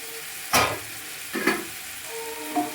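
Mint and coriander leaves frying in a hot pan for coconut chicken biryani, with three bursts of sizzling as the leaves are stirred and tossed, loud and close, over a low background hiss.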